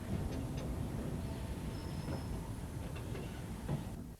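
A train runs along the Harworth colliery branch line past exchange sidings toward the pit loading bunker, heard as a faint, steady rumble with light rail clatter.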